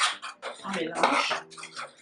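A utensil stirs and scrapes through seasoned condiment for braised fish in a pan, with clinking metal and rustling mixing sounds, close and continuous for a couple of seconds.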